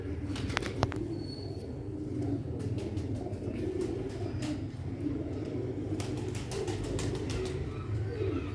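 Sialkoti pigeons of a pure Ali breed coo in a loft, soft repeated calls over a steady low background hum with scattered clicks and knocks, no talking.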